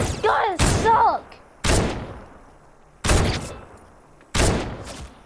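Thermal gun firing in Fortnite Battle Royale: four sharp, loud single shots a second or so apart, each with a decaying tail, following a brief burst of voices at the start.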